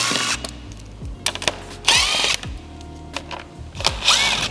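Power tool driving out the screws around the bumper of a 2023 BMW M3 G81 Touring, heard as several short whirring bursts with pauses between, close and fairly loud, no talk.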